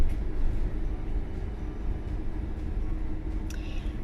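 A train runs along a railway, heard as a continuous low rumble and rolling drone throughout, steady and moderately loud, with a faint brief squeal near the end.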